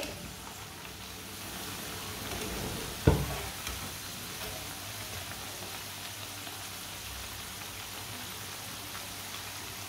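Pakoras frying in hot oil in a pan give off a steady, close sizzle with soft bubbling crackle, broken by one sharp clink near the start and continuing evenly without talk.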